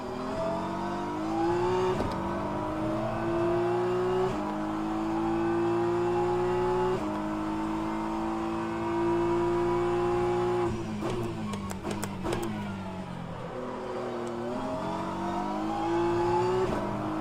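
GT3 race car engines in a racing game at Spa-Francorchamps, a loud, steady engine drone with repeated rising revs broken by short gear-shift dips, plus a brief burst of clicks and rattles partway through.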